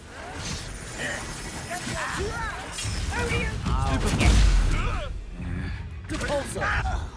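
The Confringo fire-blast spell goes off during combat in the video game Hogwarts Legacy, a deep booming burst within busy battle audio, while characters shout and talk throughout.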